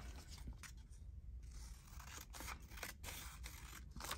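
Scissors snip and crunch through paper in a series of close, crisp cuts with short pauses between strokes.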